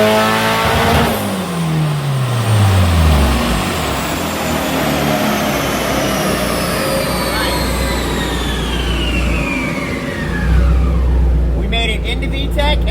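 A turbocharged B18C1 engine in a 1992 Honda Civic Si hatchback on a dyno, roaring loudly through a full pull with rising pitch and turbo whine up to the rev limiter, then dropping off near the end.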